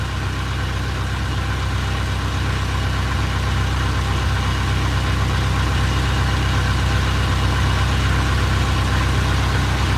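A boat's diesel engine idles steadily for the whole stretch, a constant low throbbing rumble with even vibration, close and unchanging, with no voices.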